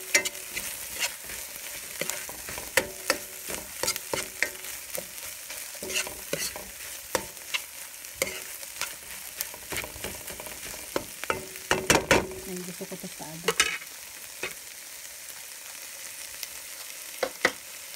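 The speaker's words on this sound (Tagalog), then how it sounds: "Para pantay yung pagkakagisa." Sautéing in a frying pan while making a mackerel omelette: continuous close sizzling and frying, broken by frequent sharp scrapes and taps of a utensil stirring against the pan.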